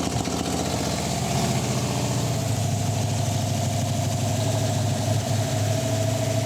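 A Hemi V8 in an AMC Gremlin idles steadily after a fresh start, a deep, continuous rumble with a faint slight rise early on and no voices over it.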